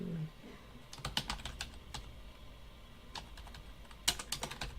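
Typing a caption on a keyboard, quick bursts of light key taps in two clusters separated by a short pause, close and crisp against a quiet background.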